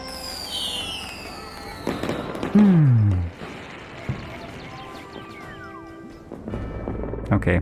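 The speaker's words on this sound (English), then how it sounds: "Time to fire the brightest fireworks in the entire world!" Fireworks launching and bursting in the Rainbow Billy video game, a string of whistling rises and crackling pops with one loud low boom midway, heard alongside game music and effects.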